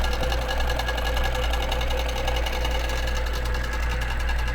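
A QBOT quilting robot drives a sewing machine along a basting line on a quilt, its motor and needle running in a steady, continuous mechanical whir, close and loud throughout.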